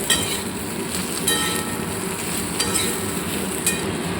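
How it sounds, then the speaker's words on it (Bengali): Vegetables cook in a pan with salt and turmeric, a loud continuous sizzle filling the scene, with occasional stirring scrapes and light clinks breaking through at irregular moments. "আমার এখানে নুন হলুদ দিয়ে একটু ভালো করে ভেজে নিয়েছি"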